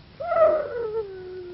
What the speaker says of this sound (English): Are you afraid of the wolves?